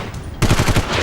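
Rapid burst of automatic gunfire from an army encounter with militants in Baramulla, Kashmir, a loud close string of about six sharp shots starting abruptly after a moment of quieter background.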